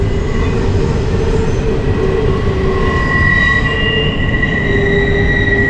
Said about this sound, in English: Train's cool.